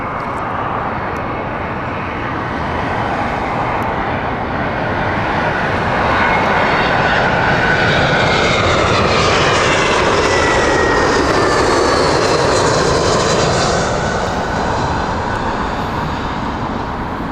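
An airliner on the Newcastle flight passes at Heathrow Airport, a loud continuous engine roar that builds and sweeps in pitch as it goes by, then eases slightly toward the end.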